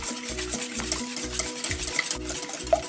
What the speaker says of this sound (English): Start with whisking the eggs.